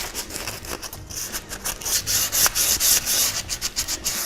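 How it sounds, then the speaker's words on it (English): Rhythmic back-and-forth rasping of sandpaper on wood, close up and steady, with strokes repeating quickly and no voices. "When sanding, it can be tedious"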